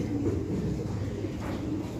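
Pigeons let outdoors, including fancy peacock pigeons, give a steady low cooing murmur throughout, fairly close and continuous with no talk.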